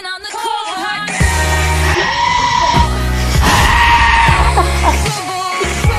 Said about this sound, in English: like the clips being cut with the goats from the movie